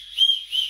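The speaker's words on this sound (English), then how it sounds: "This is actually a whistle." A whistle built into a bucket hat is blown in two short, shrill high-pitched toots, close and fairly loud, with no talking over it.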